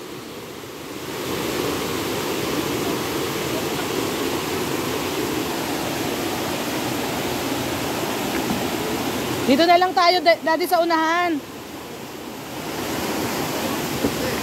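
Strong ocean waves at a beach make a continuous, loud roar of surf. A voice speaks briefly near the end over the steady rush.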